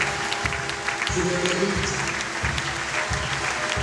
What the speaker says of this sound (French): nous voulons joindre nos deux mains, nous donner l'offrande d'acclamation